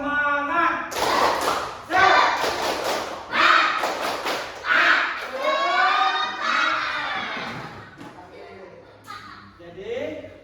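A classroom of students performs a rhythmic spirit clap, sharp claps and thumps landing in bursts between loud chanted shouts from the group, close and energetic throughout.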